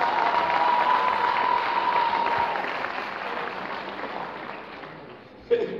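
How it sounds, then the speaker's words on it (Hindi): A crowd applauds pictures on display at a gathering with dense, even clapping that gradually thins and softens over several seconds, with a soft hum underneath and a sharp bump just before the end. "तस्वीर के लिए तालियां तो हो जाए ना"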